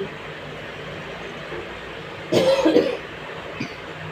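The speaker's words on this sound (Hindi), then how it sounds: "खांसी आ गई थी" One short bout of coughing, two or three quick close coughs in a row, breaks into an otherwise quiet indoor maths lesson with faint background hum.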